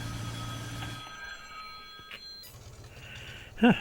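Telephone ringing in a 1950s-era farming video game, a short repeating electronic bell tone over a low machine hum from a wheat harvester, with no talk.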